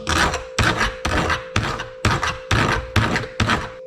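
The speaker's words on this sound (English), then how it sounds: "Let me use the file to see." Hand file rasping across a metal part from an AC/DC power converter being scrapped, testing whether it is aluminum or plated copper; eight steady back-and-forth strokes, close and fairly loud, with no talking.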